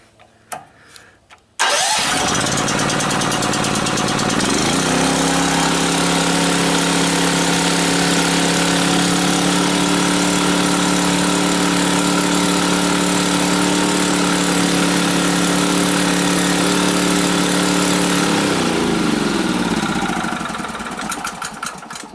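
Honda GX270 small petrol engine pulled into life after a quiet moment, then idling in a steady loud drone for most of the stretch before winding down near the end.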